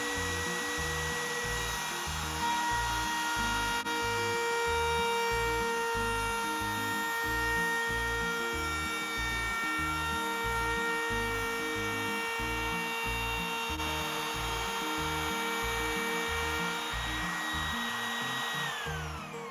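A Makita LXT cordless trim router cuts through pine, a loud, steady high-pitched motor whine held close throughout, with a rapid pulsing undertone from the cutting and no talking.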